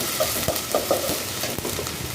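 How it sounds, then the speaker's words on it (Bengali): Broiler chicken frying in a pan with onion, ginger and spices, a steady soft sizzle under scattered light stirring scrapes, close and with no talking. "চুলাতে আমি এবার চিকেনটা ভাজবো আর এটাতে মশলাটা কষাবো।"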